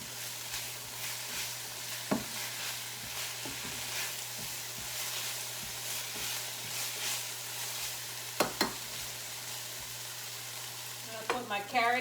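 Okra frying in a pan while being stirred, a steady sizzle running throughout with occasional scraping clinks from the stirring utensil, a few sharper knocks near the end, no voices.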